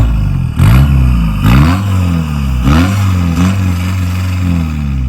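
A car with a stainless valved exhaust revs hard on launch control, loud and close, with the engine note surging and dropping in repeated pulses alongside crackling pops.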